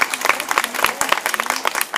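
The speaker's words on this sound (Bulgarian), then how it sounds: "Я аплодисменти за всички, от които са от община." Audience applause at a community gathering of people from the municipality, a steady patter of many hands clapping close by, with a voice faintly audible beneath the claps.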